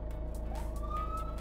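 An ambulance siren sounds in a children's pretend ride, a steady wail that rises in pitch partway through over a low rumbling drone, continuous and fairly close.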